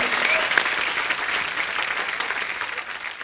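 Steady applause from a TV comedy show studio audience, many hands clapping together for a few seconds without letup.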